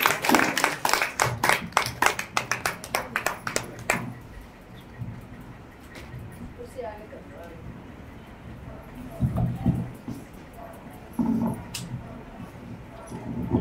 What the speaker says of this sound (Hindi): दिलीप भाई, तालियों से तो स्वागत करें।